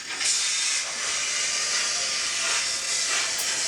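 Steady hissing steam from a model steam locomotive's coal pusher effect, played through the DCC sound decoder on a model railway, a continuous loud hiss with slight swells and no talk over it.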